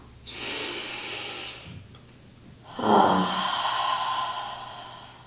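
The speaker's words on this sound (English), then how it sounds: "Big inhale." Two deep breaths during an Ashtanga primary series yoga session: a long airy inhale followed after a pause by a stronger, rougher breath. Both are close and fairly soft, with no talking.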